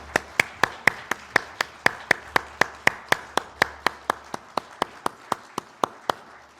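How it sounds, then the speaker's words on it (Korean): A church congregation claps in a steady, even rhythm during a Sunday united worship service, sharp regular claps continuing for several seconds, fairly distant with a soft low hum underneath. "하나님께 영광의 박수 올려드리겠습니다."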